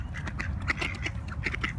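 Ducks at Disney quack in a quick, overlapping flurry of short nasal calls, close and fairly loud over a low background murmur, with no one speaking.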